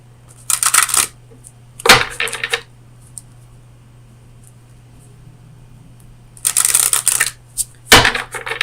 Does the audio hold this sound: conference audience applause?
no